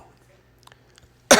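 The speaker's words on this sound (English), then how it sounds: "Oh, no, we're going to start coughing?" A man with a lingering chest cold lets out a single loud, harsh cough close to the microphone at the very end, after a stretch of near silence broken only by a few faint ticks.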